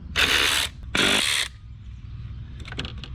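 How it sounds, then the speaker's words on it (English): Ratchet wrench loosening 10mm bolts on the coil packs of an Audi 4.2 V8, two loud rapid clicking bursts close up, followed by fainter clinks. "take off all these 10 mils that hold your coil packs on"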